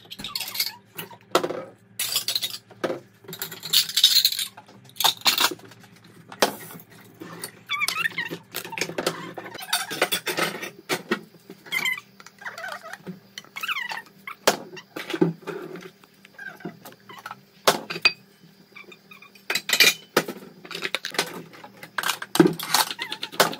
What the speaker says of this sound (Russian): Поэтому сейчас я буду разбирать посудомойку.